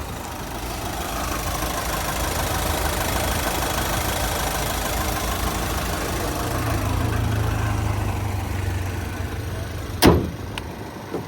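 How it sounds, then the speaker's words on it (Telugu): A 2015 Ford EcoSport Titanium diesel engine idles steadily at close range with a rough, even rumble, followed by a sharp click or knock near the end. "సో మీరు ఇప్పుడు చూడొచ్చు ఇంజన్ సౌండ్ చూసి"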